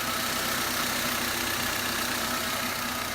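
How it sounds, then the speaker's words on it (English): A car engine idles smoothly with no knocking, a loud, steady, even rumble close by throughout, with no talking. "Engine's pretty clean, running smooth. The engine is not knocking."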